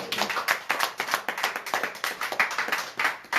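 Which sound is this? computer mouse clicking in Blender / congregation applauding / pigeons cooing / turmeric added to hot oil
congregation applauding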